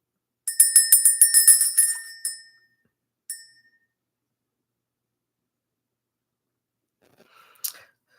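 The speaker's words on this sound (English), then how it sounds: "Let's ring the bell." A small, high-pitched bell is shaken in a rapid tinkling flurry for nearly two seconds, then rings once more briefly, and gives a final single chime after a long silence.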